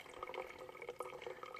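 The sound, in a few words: water being processed while backpacking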